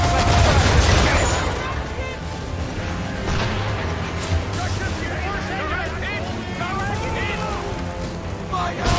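Musket volley in the video game Assassin's Creed III, a loud crackling burst of many shots at once, then a dense ongoing din of gunfire and shouting voices.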